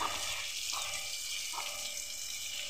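Water runs steadily from a village tap to fill containers, a constant hissing splash with a few brief shifts in tone as the stream changes, faint and alone.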